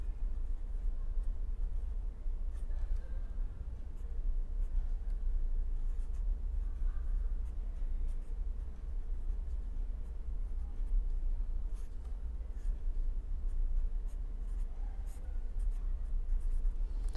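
Steady scratching of a pen or marker writing out an equation during a lecture on vibrations of a circular membrane, a continuous close scribbling texture with no talking.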